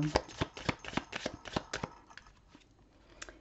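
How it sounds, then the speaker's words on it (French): Tarot cards being shuffled and drawn, a quick run of sharp riffling flicks that thins out into a few scattered soft taps, close and clear with no talking. "Allez, les amis, on va prendre la dernière carte."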